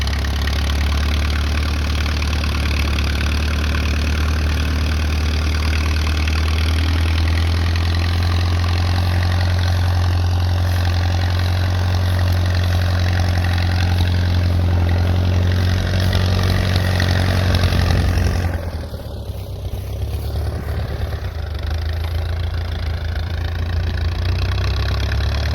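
A Case VAC tractor engine idles after a cold start, a loud, steady low rumble that runs on alone and dips briefly near the end.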